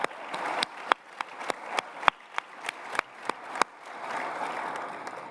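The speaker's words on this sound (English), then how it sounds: "Let's give them all a round of applause." Light applause from a small group, scattered sharp claps standing out over a soft patter, then swelling briefly before fading.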